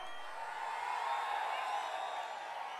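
Crowd roar from a dense Tamil political rally gathering at Papparapatti in Pennagaram constituency, a sustained wash of cheering and whooping at steady level throughout, with no clear breaks.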